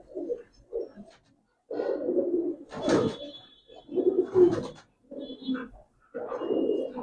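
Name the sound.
Omani high-flyer pigeon cooing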